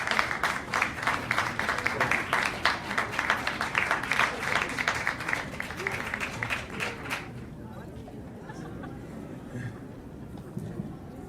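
An audience applauds warmly in welcome for George Clooney, dense sustained clapping that fills the room for several seconds and then abruptly drops to a quiet murmur of crowd noise.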